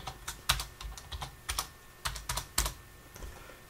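Typing on a computer keyboard during a coding tutorial, heard as uneven bursts of close, crisp key clicks with brief pauses and no talk.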